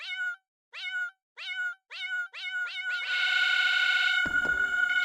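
Cartoon cats meowing in the Yahaha game, a string of separate high meows that speed up and merge into a dense overlapping chorus of kitties, loud and close.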